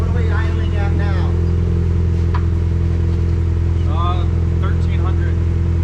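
A Mazda Miata on a dyno idles steadily at a low, even rumble, a constant droning hum that runs the whole time while people talk over it nearby.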